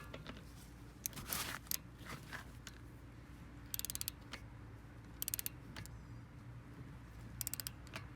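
A ratchet with a 17 mm deep socket tightens a brake bolt on a VW Jetta TDI MK5, giving quiet bursts of rapid clicking separated by pauses, with a few knocks and no talking.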